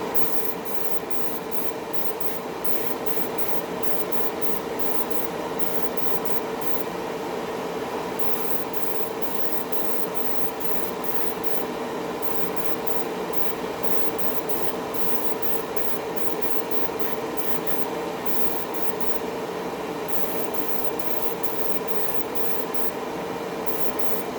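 A continuous hiss of a Tamiya lacquer spray paint can spraying in a spray booth, steady and close for the whole stretch, with a low constant exhaust fan hum underneath.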